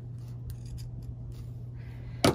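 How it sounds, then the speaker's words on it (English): Sharp scissors snip through fabric in one quick, crisp cut near the end, after a quiet stretch with a low steady hum and a few faint rustles. "you just take your sharp scissors and snip whatever's there"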